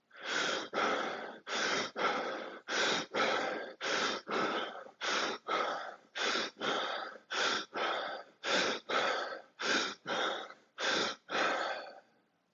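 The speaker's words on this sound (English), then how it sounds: "Second round, 10 deep breaths." Deep meditative breathing, a series of loud, close inhales and exhales in a slow, even rhythm, each breath about a second long with brief pauses between.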